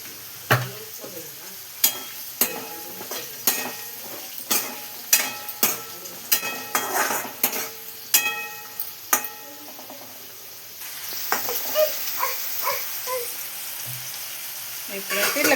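Ivy gourd (dondakaya) cooking in a pan for masala curry, with sharp stirring scrapes and clatters at a steady rhythm over soft frying, then a louder, continuous sizzle toward the end, close up.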